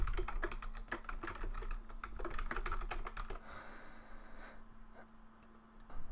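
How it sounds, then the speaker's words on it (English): Rapid keystrokes on a computer keyboard while code is entered, a dense run of close clicks and taps for about three seconds before thinning to sparse, occasional presses over a faint steady hum. "Now let me type out a sample declaration for you guys."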